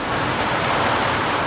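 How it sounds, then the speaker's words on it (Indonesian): Dense, steady hiss of heavy rain pouring down in a windy storm at a mine, broadband and continuous, drumming on a car roof, heard from inside the car, with no talking. "Angin kencang, hujan deras."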